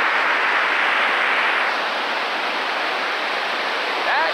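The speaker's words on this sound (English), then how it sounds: "That's some powerful water down there." A powerful waterfall on the Milford waterways roars as steady, loud, broadband rushing water that continues unbroken throughout.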